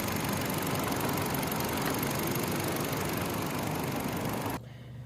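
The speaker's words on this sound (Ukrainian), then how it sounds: "запустив я двигун, тихенько працює, рівненько, без зауважень" Petrol 1.6 engine of a 2012 Hyundai Accent with manual gearbox idling smoothly and evenly, a steady close hum that drops abruptly to a quieter background near the end.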